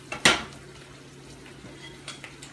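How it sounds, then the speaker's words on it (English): Shrimp and asparagus with udon noodles get stirred in a pan, giving one sharp utensil clatter against the pan near the start, then faint quieter scrapes and a soft sizzle later on. "I'm going to give the shrimp and the asparagus another quick stir"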